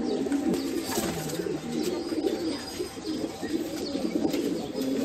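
A female Madrasi pigeon coos in soft, repeated rolling phrases at close range against faint background noise, with no voices.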